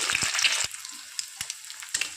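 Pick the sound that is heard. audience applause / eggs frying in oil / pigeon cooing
eggs frying in oil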